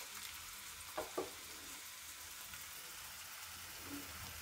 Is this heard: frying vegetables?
yes